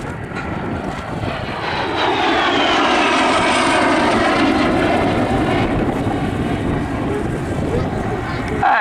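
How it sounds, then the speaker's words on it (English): A Lockheed T-33 jet flies a display at a UK airshow, its engine roar loud and sustained, swelling and shifting in pitch as it passes, with a commentator's voice faintly beneath. "an equally familiar gentleman is flying this aircraft today, Martin Tintin Tesley"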